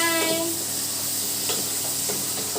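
Onions sauté in a pan for a village-style goat leg curry, giving a steady close sizzle broken by a few scraping stirs, with no one talking.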